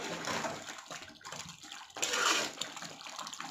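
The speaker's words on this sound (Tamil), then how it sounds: "இந்த தண்ணி நல்லா சுண்டி வர அளவுக்கு நீங்கள் கிளறணும்." Chicken biryani made with seeraga samba rice, stirred in a pot as its water cooks down, giving a steady wet, scraping swirl. The sound is close and continuous and briefly grows louder partway through.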